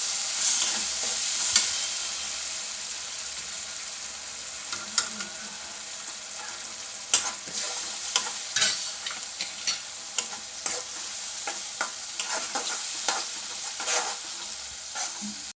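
Okra masala being stirred in a pan with curd, gram flour and garam masala: a wet, pasty scraping with soft spoon knocks that repeat steadily and grow busier toward the end. A light sizzle runs underneath, and no one speaks.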